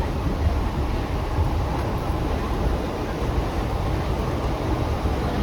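A steady, rumbling drone of a moving train carriage, unbroken and fairly loud throughout.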